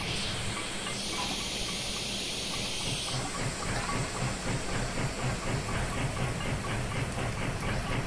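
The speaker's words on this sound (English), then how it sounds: "Chuff sounds here, overall pretty nice." Steam locomotive AT&N 2-8-0 Consolidation in Train Simulator Classic rolling with cylinder cocks closed, a steady rapid chuffing rhythm over a continuous hiss of steam, with a high whistle-like tone fading early on.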